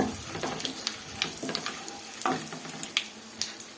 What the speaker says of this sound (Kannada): ಸ್ವಲ್ಪ ಅರಿಶಿನ ಸೇರಿಸ್ಕೊಳ್ಳೋಣ. ಎಲ್ಲ ಸೇರಿ ಈ ಥರ ಫ್ರೈ ಮಾಡ್ಕೊಳ್ಳೋಣ.